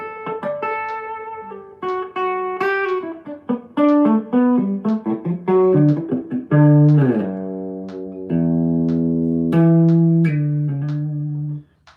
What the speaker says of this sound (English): Boy, that amp is cranking loud this morning.